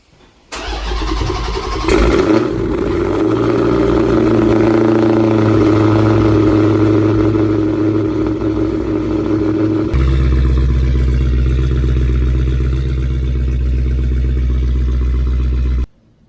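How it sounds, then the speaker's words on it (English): A Dodge Challenger SRT Hellcat engine cranks and fires up on a cold start, then settles into a loud, steady high idle that drops lower partway through before cutting off. "here's a cold start for you guys."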